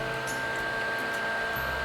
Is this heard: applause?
no